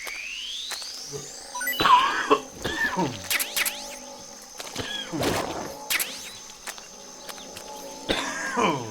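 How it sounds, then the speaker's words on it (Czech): A character in the video game Metal Gear Solid 3 coughs and clears his throat in several harsh, separate bursts, loud and close, spaced a second or two apart over a faint steady tone. "To je hrozný. Ten kašel."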